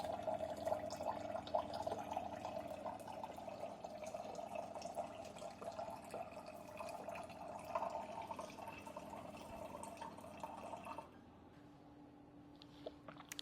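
Water dispenses from a HydroFast C100 filter in a steady, close pour lasting about eleven seconds before it stops, leaving a faint hum.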